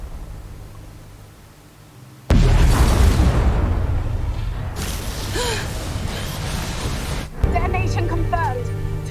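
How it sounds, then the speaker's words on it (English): Missile detonation in the science-fiction series The Expanse, a sudden loud boom that rolls into a sustained rumble, with people reacting over it and a second burst near the end. "Detonation confirmed."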